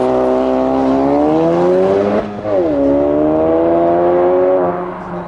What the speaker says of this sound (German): Diese wirklich fetten Auspuffrohre, die am Rande gesagt auch einen ganz schönen Klang machen,